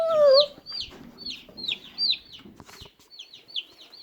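Young meat chooks on an Australian homestead peep and chirp in quick, high, repeated calls, close by, with a few low clucks at the start and no talking.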